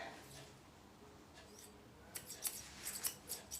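Grooming scissors snip in a quick run of crisp, close metallic cuts, quiet at first and then a dense burst of snips in the second half, with no talking over them.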